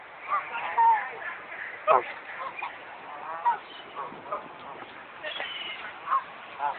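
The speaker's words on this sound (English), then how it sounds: "These ducks are hella big." Large ducks being fed give short honking quacks scattered through the clip, nearby and moderate in loudness, with people talking in between.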